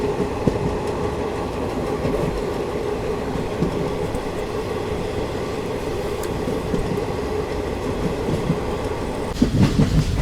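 A passenger train hauled by a locomotive runs on a desert line through the Thar toward Jaisalmer in intense heat, heard from inside a general coach as a loud, constant rumble and rattle with rhythmic wheel clatter throughout.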